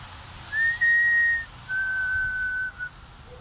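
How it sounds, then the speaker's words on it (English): An eerie whistle sounds in two long, steady, pure-toned notes, the first slightly higher than the second, close and clear over a faint low background. "On the sixth evening, the eerie whistle returned."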